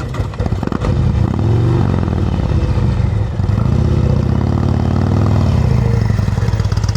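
A motorcycle engine runs at low throttle during slow-speed cone practice in Illinois, a loud, close, continuous chugging drone that wavers slightly in pitch as the rider feathers the power.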